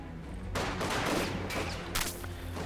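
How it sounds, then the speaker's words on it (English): Light machine gun fire in Company of Heroes 2, a Grenadier squad cutting down a Maxim crew in the open, with sustained dense bursts of gunfire and scattered battle noise, steady and loud for the whole stretch. "Maxim here caught in the open by Grenadier squad with the light machine gun"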